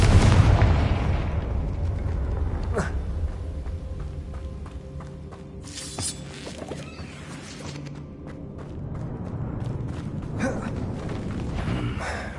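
A Confringo fire spell cast in the Hogwarts Legacy video game, bursting in a booming explosion at the start that rumbles away, followed by more scattered blasts and pops over a dense battle soundscape.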